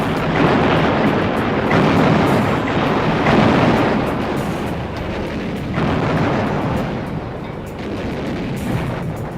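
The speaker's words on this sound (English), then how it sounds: "the guns of the Naval Task Force began one of the most prolonged bombardments of" Naval guns of a WWII task force bombarding the shore at Iwo Jima in 1945 make a dense, continuous roar of overlapping heavy blasts and rumble, loud and sustained, with no voices.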